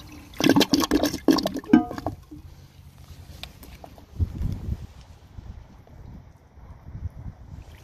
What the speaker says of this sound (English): This is the first flush it ever did.